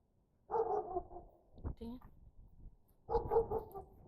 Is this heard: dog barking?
yes